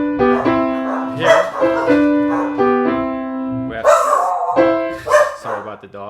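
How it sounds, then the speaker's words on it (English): Several dogs bark in repeated bursts over a piano lesson, fairly loud and close, mixed with a person talking and piano notes. "sorry about the dogs."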